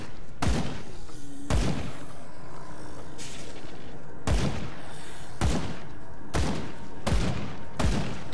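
Heavy shotgun blasts in the Grim Dawn video game, fired at zombies: seven loud, sharp booms at irregular intervals over a low rumbling background, with no voices.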